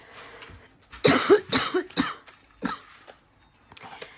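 A burst of several harsh coughs close by, followed by a few quieter coughs and throat clears.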